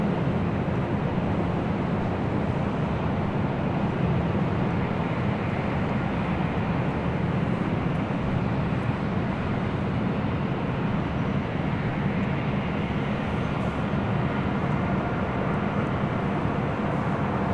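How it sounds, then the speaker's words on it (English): A Southwest Airlines Boeing 737-700 jet departing for Las Vegas at LAX at night makes a steady, broad engine roar that holds at an even loudness the whole time, with no voices. "That is Southwest Airlines Flight 3061 heading to Las Vegas in the 737-700"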